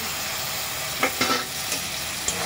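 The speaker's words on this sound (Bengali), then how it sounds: "ভালো করে এটা নেড়ে চেড়ে নেওয়া হচ্ছে।" Fried onions mixed with poppy seed paste, ground dry red chilli and salt are stirred in a pan, a soft steady sizzle broken by a few light scraping strokes of a spatula.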